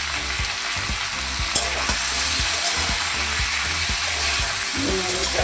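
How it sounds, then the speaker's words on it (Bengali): Drumsticks and potato frying with salt and turmeric in a pan, a steady close sizzle with scraping stirs of a spoon throughout, no talking. "নুন হলুদটা দিয়ে কিছুক্ষণ কষে নেবো"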